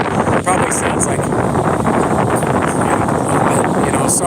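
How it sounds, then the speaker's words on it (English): Strong wind buffets the microphone outdoors at Myrtle Beach, South Carolina, a loud, continuous rushing roar with gusty swells throughout the short stretch. "that wind is blowing my hair. I know, it's windy."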